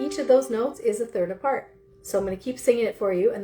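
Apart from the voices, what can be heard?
No everyday noises stand out.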